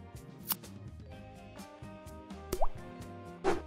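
Small drips and plops sound as litmus paper dips into aquarium water, a few faint watery ticks over a steady background hum.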